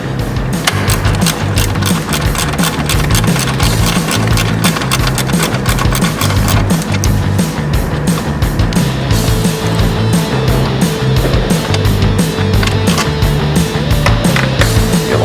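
A standard ratchet and socket work on the bolts of a Jeep Wrangler JL 2.0L PCM, giving a long run of rapid, loud, close clicking that continues steadily throughout.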